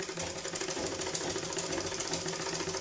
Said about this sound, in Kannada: ಇವಾಗ ಸ್ಟಿಚ್ ಹಾಕಲಿಕ್ಕೆ ನಾನು ಯಾವ ರೀತಿ ಮಷಿನ್ ತುಳಿಬೇಕು ಅಂತ ಹೇಳಿದ್ದೀನಿ ಆ ರೀತಿ ತುಳಿಲಿಕ್ಕೆ ಶುರು ಮಾಡಿ